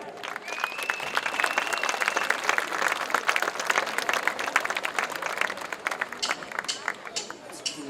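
An audience at a rock show claps and cheers steadily for a singer, dense sustained applause from a large crowd with a voice faintly heard over it.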